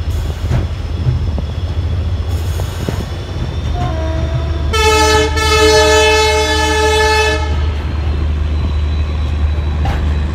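The 15468 Bamanhat–Siliguri Junction Intercity Express rumbles steadily along the rails near Cooch Behar, India, with low droning noise, and a loud horn blasts for a few seconds midway.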